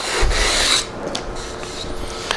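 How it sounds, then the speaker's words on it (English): Close, gritty rubbing of a sanding block with light sandpaper along plywood edges with iron-on edge banding, one long pass followed by lighter, quieter strokes, with no voices. "take a sanding block and some light sandpaper, just kind of run it down those edges"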